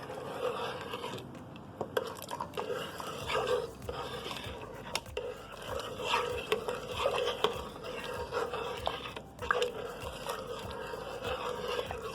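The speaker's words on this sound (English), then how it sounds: "Stir it all in real good." Potato-leek soup seasoned with black pepper is stirred in a pot, with soft scraping and clinking of a spoon against metal over a low background hum, irregular strokes continuing throughout at moderate volume.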